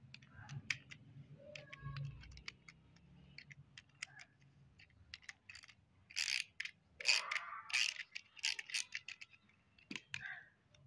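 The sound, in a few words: bolt being unscrewed to open a piercing cable connector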